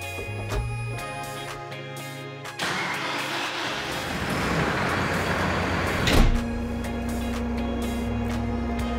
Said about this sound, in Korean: 이번에 시동을 한번 걸어서 문을 닫아볼게요.